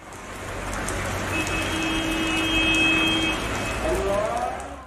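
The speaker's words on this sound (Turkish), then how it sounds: "Şanlıurfa'da öğleden sonra etkisini arttıran şiddetli yağmur birçok olumsuzluğu da beraberinde getirdi." Heavy rain pours steadily over city streets in Şanlıurfa, a dense continuous wash with a faint tonal whine and a few brief high tones near the end, as traffic sits gridlocked.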